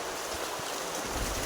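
Steady rushing river water fills the scene as a group crosses a river after a flood, a continuous broadband wash with no voices heard.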